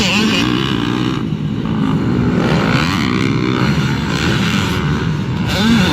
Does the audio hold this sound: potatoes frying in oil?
no